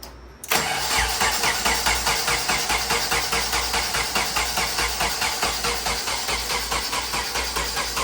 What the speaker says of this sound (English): First start on the turbo?